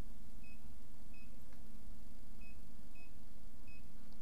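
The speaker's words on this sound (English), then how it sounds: "hold the set button again until it beeps" Electronic lock on a Defiant handleset emits short, faint high beeps in a sparse irregular pattern over a low steady hum, with no talking.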